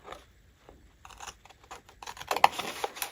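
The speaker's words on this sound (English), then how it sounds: "so I'm just going to snip that off" Scissors snip through the end of a paper pocket, a few quiet crisp cuts building to a sharper final snip, close up and otherwise near silent.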